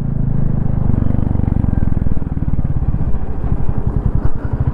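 Loud, close thumping single-cylinder engine of a Royal Enfield Goan Classic 350 motorcycle under way, a steady pulsing exhaust beat that briefly changes pitch during a gear shift.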